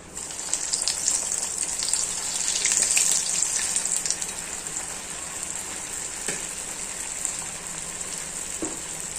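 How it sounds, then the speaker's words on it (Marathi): Cheese balls made with vegetables frying in hot oil over medium heat, a steady bright sizzle with bubbling surges that swell near the middle and then settle into a continuous crackle. "मीडियम गॅसवरच आपल्याला चीज बॉल तळायचा आहे."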